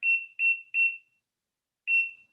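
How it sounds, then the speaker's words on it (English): Kitchen oven timer being set, giving three quick, fairly loud electronic beeps, then a short pause and one more beep, with no talking. "Let's put it in the bottom oven then. And I'll set the timer."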